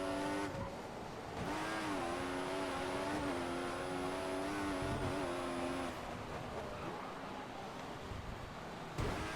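A Formula 1 car in the F1 2014 racing game, its engine screaming at high revs in a steady sustained whine with brief gear dips and pitch shifts, loud and close without any talk.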